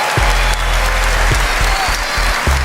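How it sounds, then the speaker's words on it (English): An audience at the Miss Universe 2023 preliminary competition applauds the selection committee, a short burst of loud clapping in a large hall with a few low thumps breaking through. "Let's give another round of applause for our preliminary selection committee"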